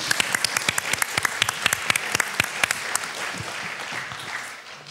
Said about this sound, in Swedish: Ja, vi klappar.